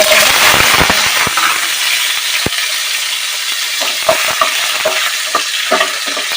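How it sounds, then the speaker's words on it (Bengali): Chopped potato frying in hot mustard oil, a steady loud sizzle broken by sharp clicks and scrapes of a spatula stirring in the pan, with no talking. "লবণটা দিয়ে ভালো করে ভেজে নেব"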